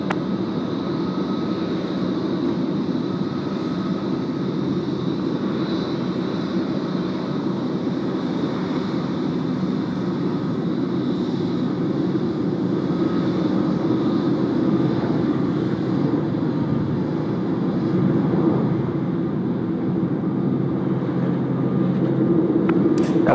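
A wide-winged airliner at Tokyo Haneda airport produces a steady, continuous engine roar that holds at a similar level for over twenty seconds, with a slight swell near the end.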